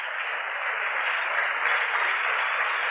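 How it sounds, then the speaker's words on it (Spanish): Steady applause from a small group in a studio, a continuous even wash of clapping with no distinct individual claps, moderately loud and unbroken throughout. "Se puede aplaudir."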